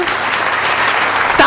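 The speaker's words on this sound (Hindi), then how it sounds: "हाथ ऊपर उठा के ताली बजाओ और यहाँ के इन सभी वासिंदों का अभिनंदन करो।" An audience at a religious satsang gathering claps loudly, a dense continuous roar of applause close by that holds steady throughout.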